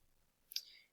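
A single soft computer mouse click, sharp and very brief, sounds in otherwise near-silence.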